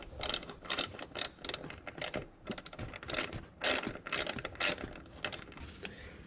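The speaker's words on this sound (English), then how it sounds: "remove this little 10mm bolt right here in the front on both sides" A hand ratchet loosens a 10mm front seat bolt on a Toyota GR86 during a rear seat removal, with a close, repeated quick clicking in bursts and no talk.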